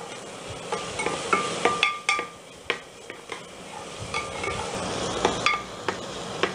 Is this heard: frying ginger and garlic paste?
yes